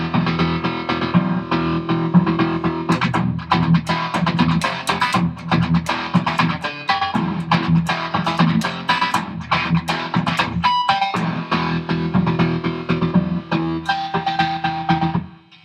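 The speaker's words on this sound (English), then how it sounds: "I'll just give you a quick demo of that with some distortion." Distorted electric guitar played through a Boss Slicer pedal in a rhythmic riff, with repeating echoes trailing each note, loud and continuous before cutting off at the end.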